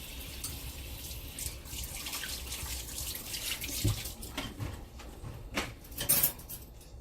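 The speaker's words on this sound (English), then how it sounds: "let me wash my hands" Tap water runs steadily into a sink while hands are washed beneath it, a soft continuous splash with a few louder splashes and shifts near the end, no speech.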